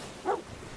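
Single short dog bark from the Sea of Thieves pet dog, fairly faint and brief against low background noise.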